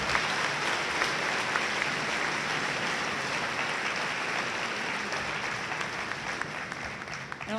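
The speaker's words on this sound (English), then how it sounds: "Can we give a round of applause" A crowd at a 2021 high school graduation ceremony gives sustained applause, a thick, even roar of many hands clapping that holds steady and tapers slightly near the end.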